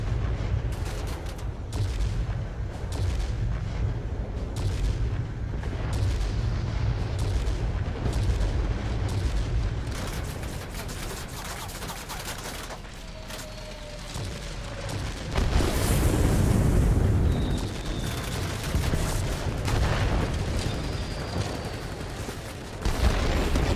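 Cannons on a Messerschmitt Me P.1099 B-2 attack aircraft firing in World of Warplanes: sustained rapid booming bursts over a constant engine drone, growing heavier in the second half, with no talking.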